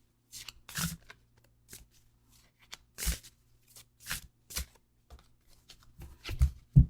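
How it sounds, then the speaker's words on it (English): Tarot cards are shuffled and handled close up in quick, irregular bursts of crisp riffling and slapping, with short quiet gaps and a few sharper taps near the end. "Let's pull a card for you"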